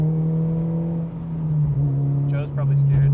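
A car engine hums steadily while driving, with a strong low drone and a brief rise in revs near the end, heard from inside the car as people talk over it.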